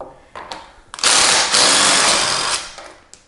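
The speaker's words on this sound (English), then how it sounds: "So I'm gonna use a drill" Power drill unscrewing a 3/4 inch bolt from a Pride Mobility Maxima heavy duty mobility scooter wheel, a loud close whir of about a second and a half after a few short bursts, then winding down.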